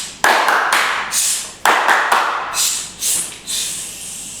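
Children in a church kids' class clap in a quick rhythmic pattern, sharp bursts of hand claps in short sequences with brief pauses between them, fairly close and loud.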